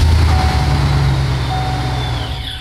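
A car engine runs steadily and loudly after cranking over, its low idle hum continuous throughout, with a faint high tone on top; it is being tuned from a mass air flow sensor and is running lean around 800 to 1000 RPM.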